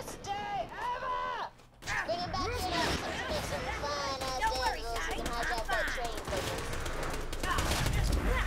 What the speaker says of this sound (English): this gun fires really slow for an SMG